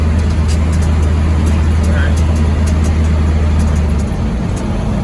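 A first-generation Cummins diesel truck engine drones steadily while the truck drives along, a loud continuous low rumble with road noise throughout and a slight easing near the end.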